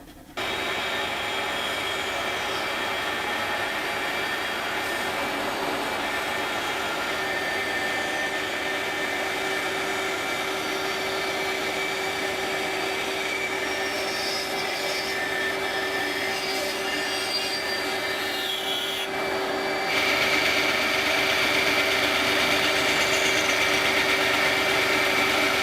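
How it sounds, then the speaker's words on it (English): A bandsaw cutting wood pieces for a rake handle runs as a steady, loud whine with a constant tonal hum throughout, shifting slightly louder and brighter near the end as the blade works through the wood. "And it's these pieces right here that I need to cut away over on the bandsaw."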